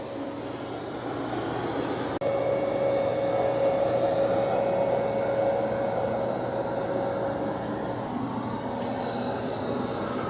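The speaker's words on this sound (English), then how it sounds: "it's doing a good job of vacuuming. That's a really tough coffee spill." Dreame X60 Max Ultra robot vacuum cleaning up a coffee spill, a loud steady whooshing motor drone with a thin whine holding through, one sharp click early on, no talk.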